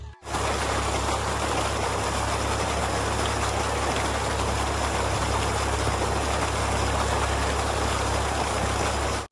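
A motor-driven water pump on a farm field in Jammu and Kashmir, drawing groundwater from about 20 feet down, runs with a steady, loud, even drone and low hum, constant throughout with no talk.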